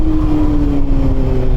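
A Kawasaki ZX6R sport motorcycle runs with a steady, loud engine drone whose pitch sweeps gently as it revs, close and continuous, with no talking.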